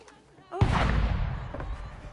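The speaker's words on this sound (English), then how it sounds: "Who's shooting? Might be them ships sliding into port." Distant cannon or gunfire from ships entering port in Assassin's Creed IV: Black Flag, a sudden heavy boom rolling into a long rumbling tail after a brief quiet opening, with faint voices nearby.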